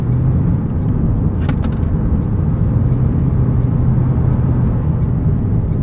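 A 2023 Toyota Prius Limited AWD in sport mode accelerating onto an entrance ramp, heard from inside as a loud, steady low road and engine rumble with no talk over it.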